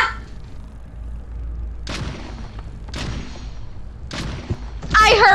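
Gunfire in the video game SplitGate, a few sharp blasts spaced about a second apart amid low game background noise, with a brighter burst of sound at the end.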